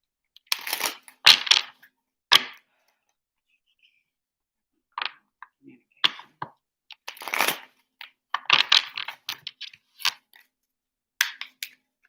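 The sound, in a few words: shuffling a deck of tarot cards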